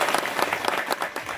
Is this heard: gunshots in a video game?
no